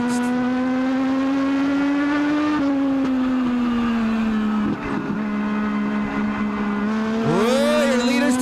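Legends race cars roar down the front stretch of an oval track, a loud sustained engine drone that dips slightly as the pack passes, with rising revs and a brief tire squeal toward the end.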